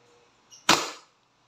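Single shot from a WE Glock 17 Gen 5 airsoft pistol during a chronograph test, a sharp close crack with a short decaying tail after a faint mechanical click.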